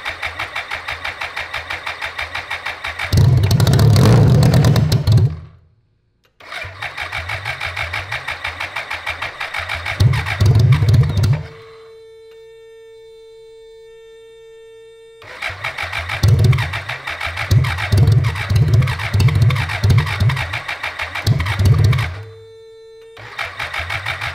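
An old 1000cc BMW motorcycle engine, long left in cold storage, cranks and catches into rough, revving bursts, cuts out, and restarts, with quiet steady tones in the pauses.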